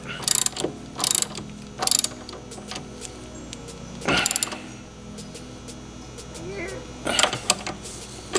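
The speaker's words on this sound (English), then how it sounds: "I get this thing tightened down." A ratchet tightening a nut during a Dodge/Chrysler air suspension install clicks in quick bursts of close, sharp ratcheting, five or six short runs separated by pauses.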